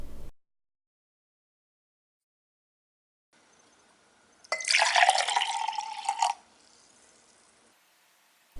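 Pickle juice made of distilled vinegar and salt pours out of a jar into a container, a single splashing gush of about two seconds that follows a near-silent pause.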